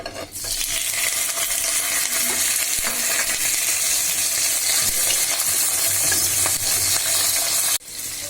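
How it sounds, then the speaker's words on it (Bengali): Shrimp frying in hot oil in a pan, a loud, dense, unbroken sizzle that fills the whole stretch, close and steady, with occasional faint stirring knocks and a brief cut near the end. "চিংড়ি মাছগুলো প্রথমে একটু ভেজে নিলে যে কোনো সবজির ফ্লেভার অনেক সুন্দর হয়"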